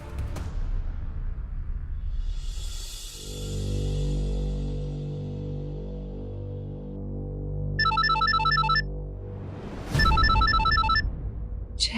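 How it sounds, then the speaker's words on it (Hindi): A telephone rings with an incoming call in a domestic drama scene, electronic ringtone bursts sounding twice over a loud sustained music bed, clear and close. "जय का कॉल।"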